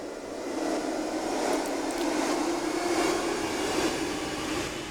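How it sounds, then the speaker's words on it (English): Layered riser sound effects from a sample library, overlapping rising whooshes that build into an endless staircase, a steady broadband airy rush with a low tonal band, sustained and fairly loud without pauses. "We have a bunch of risers here, kind of layered so they're overlapping, so you just get this endless staircase of rising whooshes."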